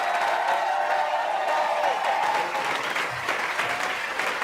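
A comedy show audience claps and cheers for Wally, a dense, steady wash of applause with some whoops rising over it, filling the room loudly from start to finish.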